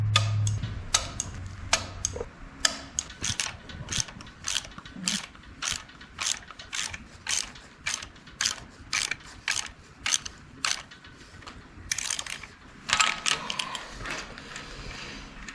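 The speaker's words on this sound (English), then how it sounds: "these get torqued down to 18 foot-pounds" Torque wrench ratcheting as engine front cover bolts are tightened to 18 foot-pounds on a junkyard 5.3 LS V8, a series of sharp close clicks in quick regular bursts with short gaps, no talking.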